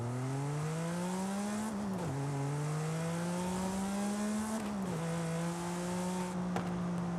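A Porsche 911 GT3 RS 4.0 in Forza Horizon 5 revs hard in a sustained high-pitched flat-six wail, climbing through two gear shifts with brief dips between, loud and continuous with no talk.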